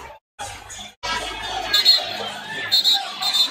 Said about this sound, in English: And the crowd is reacting as they looked at it in the arena.